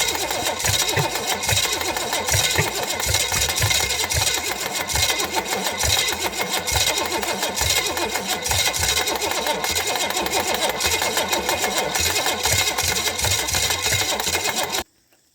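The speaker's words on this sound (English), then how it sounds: "That's just the starter making that noise" A Chevy 305 V8 starter cranks the engine in a steady, unbroken grinding whir that runs at a constant loud level, then cuts off abruptly at the end.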